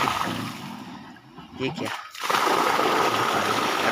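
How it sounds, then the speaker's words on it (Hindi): Water gushes out of a farm irrigation pipeline in a field, a loud, steady rush that swells after a brief dip while someone speaks over it. "इधर आ गया पानी"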